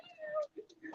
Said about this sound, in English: Here's a kitty.